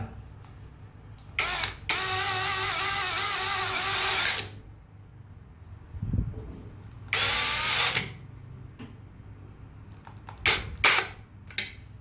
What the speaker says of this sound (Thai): เอาสกูดำยิงไม้เลย ยิงได้เหมือนกันครับ โดยตรงเลยยิงไม้